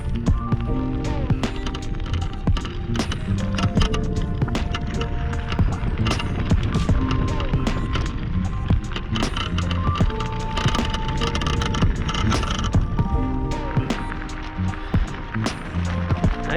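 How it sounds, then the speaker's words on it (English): Yume X11 electric scooter ridden off-road, rattling and clattering continuously over rough ground, loud and close with wind and motor noise mixed in. "Now here's where the rattling starts a little more. Doing a little off-road here."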